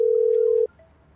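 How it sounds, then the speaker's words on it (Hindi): A single steady telephone tone sounds for about two-thirds of a second and then cuts off, the signal heard when a mobile phone call fails to connect over a network problem, followed by faint background. "फोन नहीं लग रहा, इसको टी टी टी टी कर रहा"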